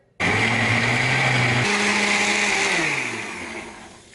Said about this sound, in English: Okay, so it's all in the blender.